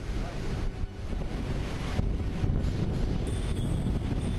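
Strong wind and rough waves around a warship on the open Western Pacific during a naval exercise make a dense, steady roar that stays loud and unbroken throughout, with no voices.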